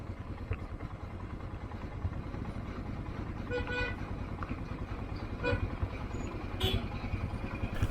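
Vehicle horns on a busy road in India, several short toots and honks at a middling distance over constant rumbling traffic and passing motorbikes.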